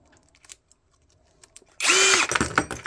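A power drill removes screws from cast aluminum scrap, starting after quiet scattered handling clicks with a loud whining burst that holds steady, then dips and surges near the mic.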